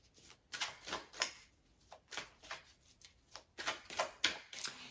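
Tarot cards are shuffled in a quick series of soft, crisp riffles and flicks, close and quiet, with no talking.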